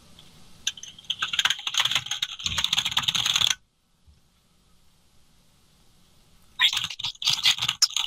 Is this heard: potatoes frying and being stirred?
no